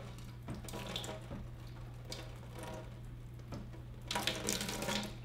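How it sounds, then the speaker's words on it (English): Tap water runs steadily into a cup holding lettuce, a close, even splashing stream with a low hum beneath and a brighter surge near the end. "Now your lettuce is in the cup and you just want to fill that up with water."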